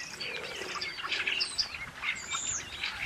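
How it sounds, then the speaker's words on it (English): Fieldfares call from an open field, a scatter of chirps and chattering notes at a modest distance over faint background noise. "All the birds are out, fieldfares."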